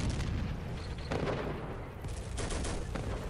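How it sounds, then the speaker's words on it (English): In the World War II tank game Steel Fury, set at Kharkov in 1942, enemy artillery shells a village with repeated booming impacts and rumbling bursts, a dense barrage that continues throughout. "No, this is enemy artillery."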